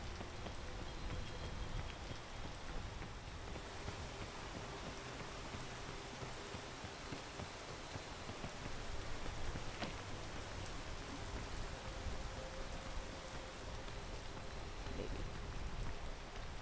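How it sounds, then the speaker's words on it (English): Steady rain falling in a video game, a dense even hiss of raindrops on surfaces running continuously at low level with faint scattered ticks and no voices. "And we'll wait for the rain to stop."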